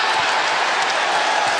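A college basketball arena crowd at a Kansas State versus Iowa State game claps and cheers in a steady, loud wash of applause that fills the whole moment without break.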